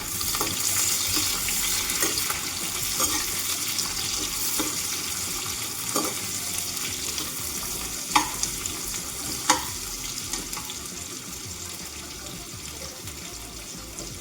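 Roughly chopped onion with bay leaf fries in hot oil in a pan for a Nepali chicken curry, giving a steady, close, broadband sizzle that runs the whole time, broken by a few sharp stirring knocks and scrapes.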